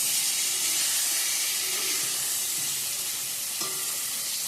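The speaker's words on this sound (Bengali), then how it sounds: "এদিকে আমি পটলটা ভাজা করে নিচ্ছি।" Pointed gourd (potol) slices fry in a pan with oil, giving a loud, steady, continuous sizzle and hiss throughout, with a faint clink partway through and no talking.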